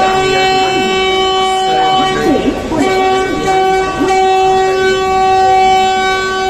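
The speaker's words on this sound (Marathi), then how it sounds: "आता ट्रेन आलेली आहे दौंड जंक्शनवर आणि गाडीने स्पीड पकडली, एकदम स्पीडने आली" A train arrives at Daund Junction at speed, rumbling steadily along the rails with clattering wheels, while a long horn note sounds continuously throughout; faint voices mix in beneath the noise.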